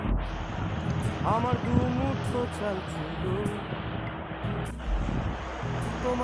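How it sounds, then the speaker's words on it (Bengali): Luchi deep-frying in hot oil gives a steady, dense hiss and bubbling sizzle that fills the whole stretch, with a voice talking over it. "এবার লুচিগুলো ভেজে নেব।"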